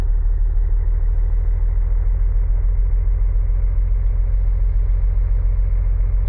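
A driving car's engine in a video game drones steadily with a low, repetitive hum, unchanging and alone throughout.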